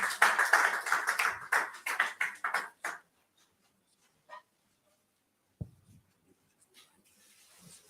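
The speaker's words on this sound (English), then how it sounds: "A round of applause for him." Short burst of audience applause at an education and budgeting dialogue event, a few seconds of rapid, fairly loud clapping from a small crowd that stops abruptly, followed by near silence with scattered faint taps and a single knock.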